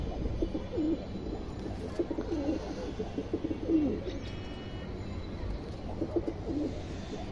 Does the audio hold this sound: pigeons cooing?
yes